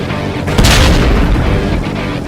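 A loud, close explosion from the motorcycle action video game Ride to Hell: Retribution, a single deep boom with a crackling burst of debris that dies away over about two seconds.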